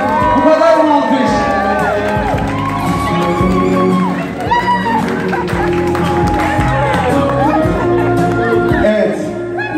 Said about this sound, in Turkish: Alkışlar nerede alkışlar?